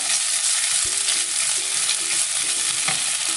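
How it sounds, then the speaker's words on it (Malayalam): Ginger garlic paste fries with browned onions in a pan for palak chicken, giving a loud, constant close-up sizzle with a few faint stirring scrapes and no talk. "ഇനി അതിലേക്ക് നമുക്ക് 1 ടീസ്പൂൺ ജിഞ്ചർ ഗാർലിക് പേസ്റ്റ് ഇട്ട് കൊടുക്കാം."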